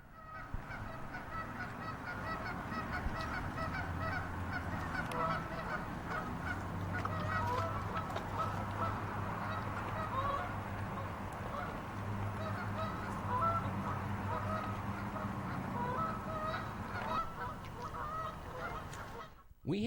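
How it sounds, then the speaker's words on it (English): A white swan honks repeatedly near the water, its nasal calls carrying over a steady outdoor background, fairly distant and intermittent throughout. "There's a white swan."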